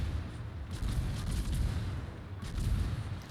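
Naval guns of a Tier 10 British light cruiser firing at a Kremlin battleship in World of Warships, a rapid rumbling series of heavy booms blending into a continuous low roar, close and loud.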